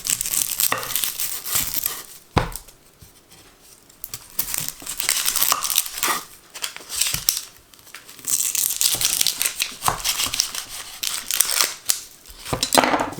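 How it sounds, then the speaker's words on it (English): A knife chops onions on a board for a spaghetti bolognese, close and irregular, with crisp crunching cuts, sharp knocks and rustling papery skins throughout. "So right now we are going to cut the onions"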